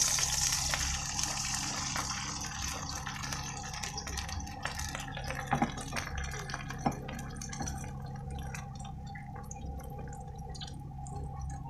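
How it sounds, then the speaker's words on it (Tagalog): Water pours into a cooking pot while escabeche tilapia is being prepared, making a steady, continuous splash and rush that lasts throughout at moderate volume. "Lagay tayo ng tubig."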